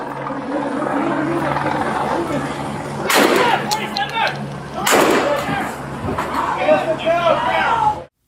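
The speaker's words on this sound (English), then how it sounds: "Corugedo was struck by gunfire" Police officers fire guns during an officer-involved shooting, two sharp loud bangs a couple of seconds apart cutting through a steady helicopter-like drone and shouting voices.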